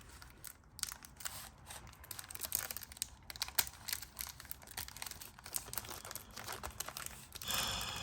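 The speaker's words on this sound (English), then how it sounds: "This plastic doesn't want to split for me." Plastic wrapper on a vintage trading card pack crinkles and tears in quiet, irregular snaps and rustles, close up and faint, with a louder crackling flurry at the end.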